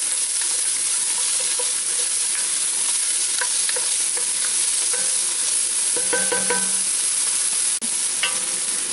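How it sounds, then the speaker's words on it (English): Onions browning in olive oil in a preheated pan make a steady, close, broadband sizzle that runs unbroken throughout, with faint stirring clinks near the end and no talking. "I've had my onions browning in some olive oil for a few minutes here"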